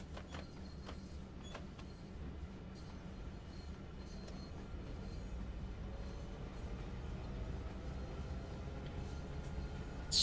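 Locomotive dynamic braking on the Clinchfield line in Train Sim World 2, a steady low rumbling drone with a constant hum that swells gradually over about ten seconds, heard alone without talk.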